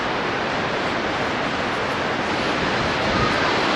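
Water plunging over Victoria Falls near Rainbow Falls, heard as a steady broadband roar with a touch of wind noise, constant and fairly loud, with no voices.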